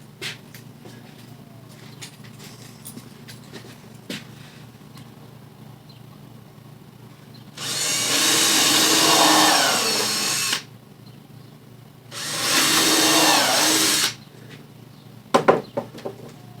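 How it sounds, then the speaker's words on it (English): A power drill bores into the wood of an old, rotted, warped raised bed planter in two sustained, loud, close bursts, separated by a short pause, over a quiet outdoor background. "Let's drill it, because it's going to split like crazy if I don't."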